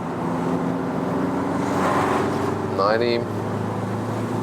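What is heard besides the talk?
new VW Beetle diesel 110 hp accelerating 75 to 100 km/h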